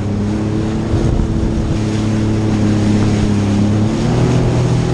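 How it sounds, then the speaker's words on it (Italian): A jet ski engine drones steadily on open water, loud and close, with wind and splashing mixed into the hum. "è un po' difficile guidare il jet ski con una mano"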